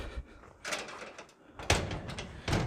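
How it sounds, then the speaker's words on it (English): A metal side door on a newly built 10x20 metal one-car garage with flimsy hardware closes, giving a couple of sharp broadband impacts over faint background noise. "The side door closes about the same as it did."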